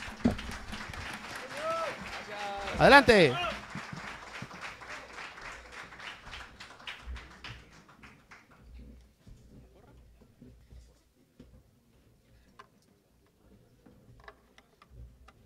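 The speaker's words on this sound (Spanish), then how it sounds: "damos un fuerte aplauso otra vez, por favor, a la Tuna Universitaria y Expro" Audience applause for a university tuna (student music ensemble) at a university tunas and estudiantinas gathering, loud at first with a sharp peak, then thinning out and fading while a voice speaks briefly.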